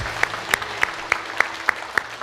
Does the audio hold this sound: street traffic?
no